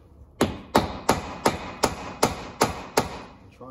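Hammer blows strike a rusted U-joint cap to knock loose its retaining clip on a 31-spline 8.8 axle driveshaft, nine sharp metallic hits in a steady rhythm, close and loud with no talk.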